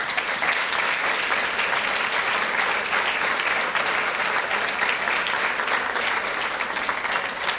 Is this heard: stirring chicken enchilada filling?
no